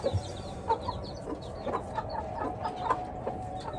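Chickens clucking nearby, a string of short repeated clucks and squawks from several birds over a low background rumble, with no talking.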